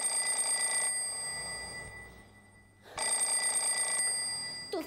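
A telephone rings in a home with two long, loud electric bell bursts separated by a quiet pause of about two seconds, with no one speaking.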